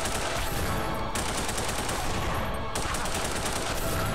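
Gunfire in The Punisher on the original Xbox comes as a dense, loud wall of shots that runs without pause, with brief shifts in texture as the firing changes.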